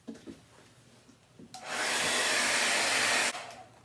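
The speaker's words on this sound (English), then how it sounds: "Let me blow dry it and then I'll peel the tape off." A blow dryer roars on for about two seconds, drying paint on a DIY faux woodgrain doormat, a loud steady rushing whir that starts and cuts off abruptly after some quiet handling noises.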